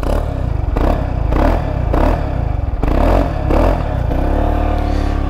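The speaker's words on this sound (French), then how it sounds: "Alors c'est un bruit standard, hein." A 2023 Peugeot XP400 GT scooter engine idles and revs in steady pulses, loud and close, settling into an even running hum toward the end.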